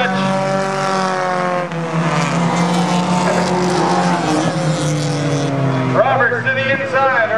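Race cars roar through a feature race at Capital City Speedway, engines loud and close, pitch rising and falling as they sweep past, while an announcer calls the action over the continuous din.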